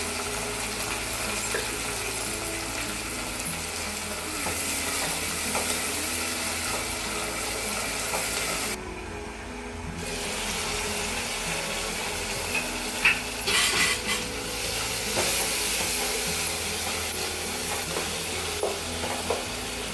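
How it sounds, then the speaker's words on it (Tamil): Tomatoes sauté in a pan for thattapayaru (black-eyed pea) kulambu, giving a steady close sizzle with stirring and scraping throughout, a brief quieter gap partway through, then a few light utensil knocks near the end. "தக்காளி ஓரளவுக்கு வதங்கிடுச்சுமா"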